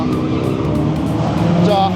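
Drift cars racing at Motorland Mikawa during a team drift event, engines roaring loud and close in a dense sustained drone with faint tire squeal, voices talking underneath.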